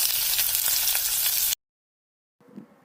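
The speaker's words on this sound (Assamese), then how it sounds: "মই ইয়াত এতিয়া পিয়াজখিনি কাটি থোৱা পিয়াজখিনি দি দিম" Chopped onions hit hot oil and sizzle loudly and steadily up close, then the sound cuts to silence before a faint crackle returns.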